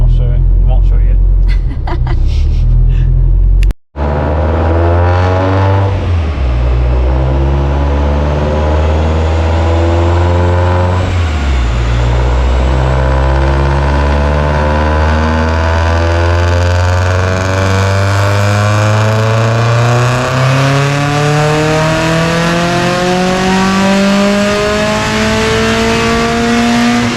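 A car engine on a dyno, first idling unevenly, then revving in long, loud sweeps that climb and fall before one sustained high-rpm pull, with a brief cut near the start.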